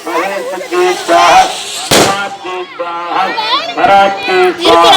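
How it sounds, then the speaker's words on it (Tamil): Firecrackers bursting at a temple consecration festival, with one sharp loud crack standing out amid a noisy, festive crowd and people talking close by. "இப்ப பட்டாசு ரொம்ப வெடிச்சிட்டு இருக்காங்க பாத்தீங்கன்னா"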